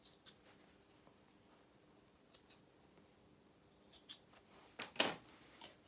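Sewing scissors snip through loose threads on a small fabric toy, a few faint, sharp clicks scattered over quiet room tone with one louder, closer snip near the end.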